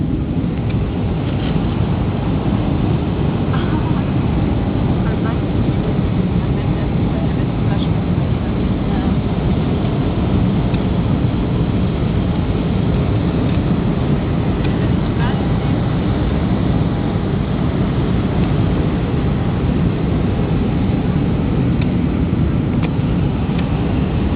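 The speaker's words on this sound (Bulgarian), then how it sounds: "и в момента кацаме" Passenger airplane landing at Düsseldorf airport, heard from inside the cabin as a steady, loud broadband roar of engines and airflow that runs without a break throughout.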